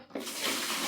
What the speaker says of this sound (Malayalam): ഇനി ഈ വെള്ളം ഇതിലേക്ക് ഒഴിക്കുന്നുണ്ട് കേട്ടോ.